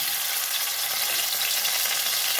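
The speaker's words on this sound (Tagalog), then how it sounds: "Sa parehong kawali, ipriprito ko ngayon itong beef." Beef frying in a pan gives off a loud, steady, close sizzle with a bright, hissing crackle that stays even throughout.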